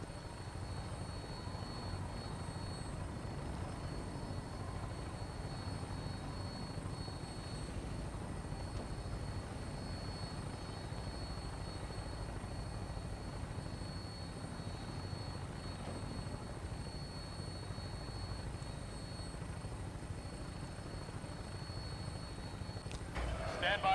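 Vertibird aircraft in Fallout 4, a steady rotor and engine drone that holds from takeoff to landing at an even level, with brief voices heard underneath.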